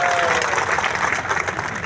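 A large crowd claps loudly and continuously at a Yadav community political gathering in Isagarh attended by the chief minister, a dense, near wash of applause.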